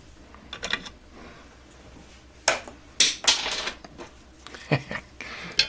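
A thru-hole inrush current limiter is cut out of a circuit board, giving several sharp close snips and clicks with quieter scraping between them.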